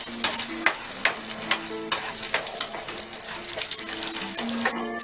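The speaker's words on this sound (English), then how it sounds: "So this is browning. We'll let it brown a little bit more." Food browning in a frying pan while a torta de espinaca y jamón with egg, ham and spinach is cooked, with a steady close sizzle, intermittent stirring clicks and a brief trickle of running water, no voices.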